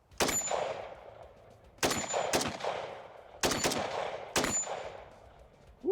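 A custom-built gun fires in several sharp bursts of quick shots, each crack followed by a ringing decay, spaced by short pauses, loud and close with no talking.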